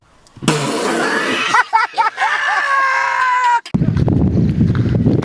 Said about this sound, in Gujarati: દેખાઈ ગયા ને બકરા.